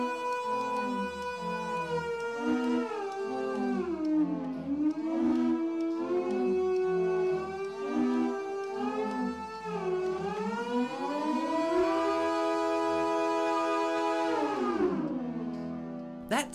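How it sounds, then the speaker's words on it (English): Sirens played as musical instruments wail and glide through eerie, sustained pitches, rising and falling in a continuous, loud, haunting melody that swells higher near the end before sweeping down. "These sirens aren't alerting people to the possibility of danger. They've been transformed into instruments."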